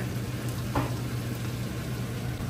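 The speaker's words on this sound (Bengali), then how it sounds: "এই তেলটাতেই রান্নাটা করে নেবো। এই তেলটাতে রান্না হবে।" Crushed garlic fries in oil left from cooking dried fish, giving a constant close crackling sizzle at steady loudness. One brief clink sounds partway through, with no talking.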